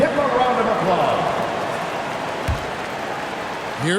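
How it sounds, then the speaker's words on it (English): Crowd applause and cheering in an NBA 2K25 basketball video game arena after the Bucks dancers perform, a steady broadband wash that fades slightly and sounds under a commentator's talk. "give them a round of applause."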